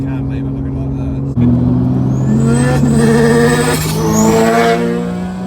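Nissan S15 Silvia with an RB25DET engine accelerating hard while losing traction, revs climbing sharply with a loud, close engine note and a rising whine.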